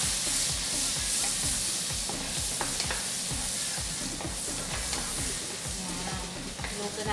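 Spring onions sauté in a hot pan with buttered shrimp and toasted garlic, giving a steady, close sizzle with repeated scraping stirs in a regular rhythm throughout.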